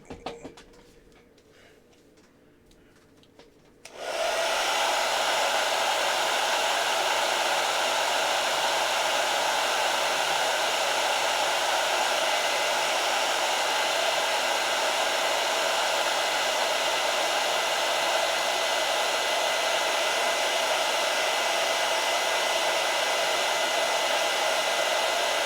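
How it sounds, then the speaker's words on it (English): A hair dryer switches on after a few seconds of quiet and then blows in a loud, steady, unbroken rush, drying fresh paint. "Actually, I'm going to take the hair dryer to it."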